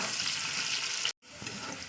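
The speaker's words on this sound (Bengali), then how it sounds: "আলুটা আমার ভাজা ভাজা হচ্ছে" Potatoes fry in a pan with a loud, close, steady sizzle that cuts out abruptly for a moment, then resumes a little softer.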